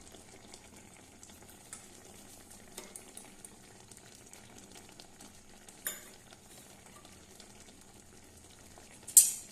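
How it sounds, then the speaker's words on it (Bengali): Shrimp, brinjal, potato and tomato curry stirred in a pan, a soft constant sizzle broken by light spoon scrapes and taps, with one sharper clatter near the end. "একবার মিলিয়ে মিশিয়ে দিচ্ছি"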